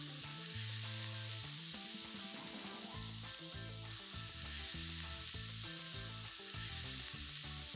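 Beef, garlic, chipotle in adobo, oregano and smoked paprika sizzle together in a pot, a steady hiss running beneath loud background music throughout.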